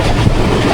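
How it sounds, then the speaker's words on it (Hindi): The Hazara Express thunders past at high speed, a loud, dense rumble and roar of rail cars rushing by close at hand. "से थ्रू पास हो रही है ट्रेन"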